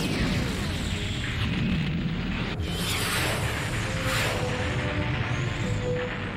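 Pulse cannons fire amid explosions in an anime space battle, producing a continuous loud, dense roar of booms and bursts with whooshing sweeps throughout.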